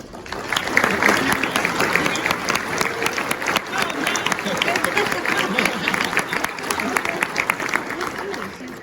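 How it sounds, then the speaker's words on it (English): Sustained applause from a standing audience at a public fire and life safety education conference, steady dense clapping with crowd murmur filling the whole stretch. "Would you kindly stand for a round of applause, please?"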